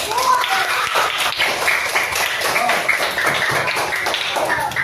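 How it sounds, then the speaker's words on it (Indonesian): A room of students claps for a classroom group presentation, dense overlapping hand claps and taps that keep a steady patter, close and fairly loud, with scattered voices mixed in. "sekarang tepuk tangan buat kelompok 3"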